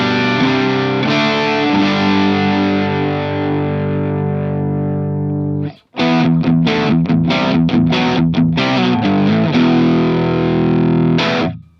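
Telecaster running through a Nobels ODR-1 overdrive pedal with every knob at noon into a Vox AC15, giving a driven, crunchy tone: a sustained chord rings out, stops, then choppy strummed chords and a held chord follow.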